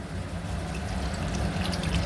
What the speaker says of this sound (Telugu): ఇప్పుడు మనం అందులో వాటర్ పోసుకోవాలి